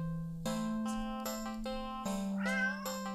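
A cat meows repeatedly, several drawn-out cries in a row with a strained, wavering tone toward the end, close and clear over a steady low hum, no talk.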